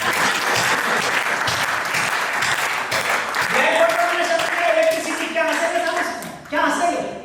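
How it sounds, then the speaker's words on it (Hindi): Dense, steady applause from an audience at a Hindi poetry gathering fills the space for several seconds, with a few voices and a cheer rising near the end before the clapping trails off. "ताली बजा सकते हैं।"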